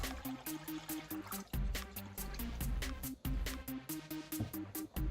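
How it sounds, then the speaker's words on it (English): Homemade tiger nut milk is poured through a sieve, giving a soft, continuous trickle and splash with irregular pulses as the liquid runs through the mesh. The pour is close and faint, with no voices. "I'm just going to go ahead and pour both milk inside the sieve"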